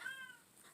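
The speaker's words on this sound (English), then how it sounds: "Sorry, that's my cat, Luna." A single short cat meow, fairly close and clear, rising then trailing off into quiet room tone.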